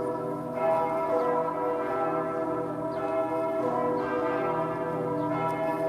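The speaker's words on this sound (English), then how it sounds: "The bells are coming from Berliner Dome, the largest cathedral in the city." Church bells of Berlin Cathedral on Museum Island ring on steadily, a rich, layered peal carrying across the open city for several seconds, with no voices.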